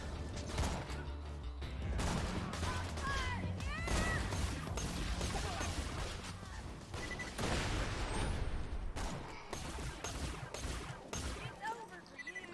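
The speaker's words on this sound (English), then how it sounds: "This gun sounds really, really, alien." An alien-sounding gun fires repeatedly in Borderlands 2, with dense bursts of shots, warbling sci-fi tones and mechanical clatter throughout, partly under a voice.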